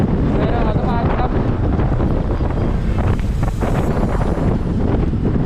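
Strong outdoor wind buffets the microphone with loud, continuous rumbling gusts that stay steady and close throughout.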